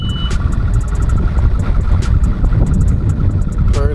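A new outboard boat motor fires up and runs steadily, a loud continuous engine drone with a faint repeating beep over it, close and alone without talk.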